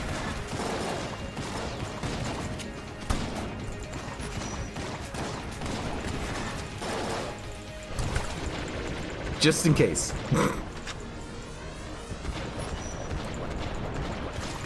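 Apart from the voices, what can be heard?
Siren gun firing in video game Enter the Gungeon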